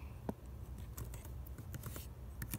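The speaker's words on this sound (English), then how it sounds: "You can see my awesome nails typing on the keyboard." Long fingernails tap and click across a computer keyboard in a quick, irregular patter, close up but soft, with no talking.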